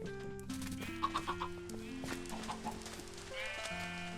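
Video game chickens cluck in short repeated bursts amid a busy layer of looping game music and ambient tones, with the clucks standing out at a moderate level near the middle of the scene.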